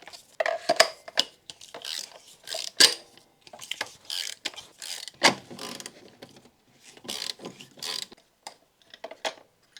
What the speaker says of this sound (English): using our spark plug socket and ratchet, we can remove the spark plugs